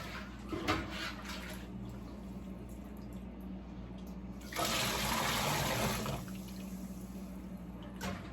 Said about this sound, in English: And I'm going to rinse this one out.